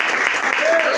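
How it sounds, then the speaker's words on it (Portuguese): A church congregation applauds in praise during a Portuguese-language worship service, a dense, steady wash of clapping that fills the whole moment, with a voice faintly carrying over it. "Pode aplaudir o nome santo do Senhor Jesus."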